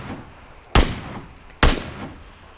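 Two loud, sharp gunshots from the video game PUBG Lite, spaced nearly a second apart, each a sudden broadband crack with a short decaying tail over faint background game noise.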